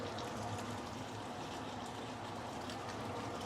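White vinegar poured into a pan of sweet and sour prawns makes a soft, steady, liquid hiss, quiet and continuous throughout.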